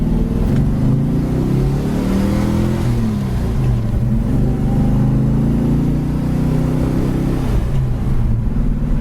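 A 1971 Plymouth Duster's engine drones steadily and close up while driving, its pitch rising and falling through gear shifts, with a dip and climb near the end.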